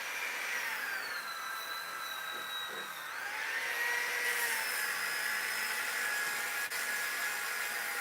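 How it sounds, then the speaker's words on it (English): A disc sander works a wood carving stencil with a steady motor whine that dips in pitch as the wood is pressed to the disc, then rises and settles, over a soft rushing hiss. "You really want to have a light touch with the disc sander"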